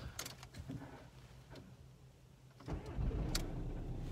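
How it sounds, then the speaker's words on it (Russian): A VW Bora is started for the first time: the starter cranks briefly, then the engine catches and settles into a steady idle, heard up close. "Так, сейчас будем первый раз заводить."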